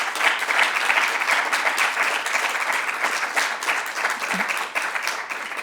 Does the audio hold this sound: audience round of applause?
yes